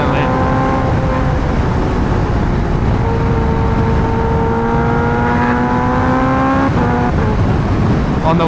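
A boosted Kawasaki H2R motorcycle running on race fuel holds high RPM, its loud, steady engine drone slowly climbing in pitch across the whole stretch, with a brief dip near the end.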